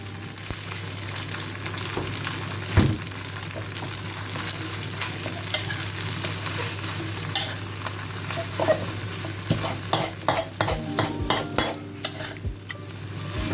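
A spatula handle scrapes and stirs wide rice noodles for pad see ew in a sizzling wok, with a steady frying hiss and repeated sharp metallic scrapes growing more frequent toward the end.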